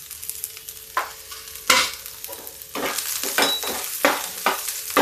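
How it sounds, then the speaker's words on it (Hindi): Whole spices including bay leaf and mace frying in oil over low heat for masoor dal, a steady sizzle broken by several louder bursts as a spoon stirs the pan, close and without talk. "धीमी आंच पर भूनेंगे नहीं तो जल जाएगा।"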